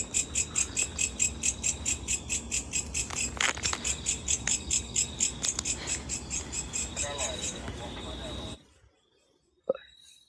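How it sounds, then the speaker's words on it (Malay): Crickets chirp at night around a village, making a dense, rapid, pulsing trill that stays steady and loud for several seconds before cutting out abruptly, leaving near silence with one brief knock. "Bunyi cengkerik banyak ni."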